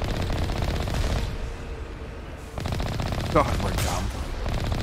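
Base turrets in the Mass Effect video game fire continuous rapid automatic bursts with a brief lull in the middle, while someone speaks briefly over the gunfire.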